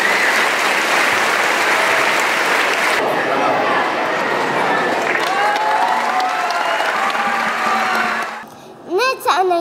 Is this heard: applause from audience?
yes